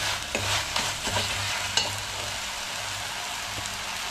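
Spinach gravy frying in oil in a pan, with a low continuous sizzle and occasional scraping stirs and taps, close by and moderately quiet.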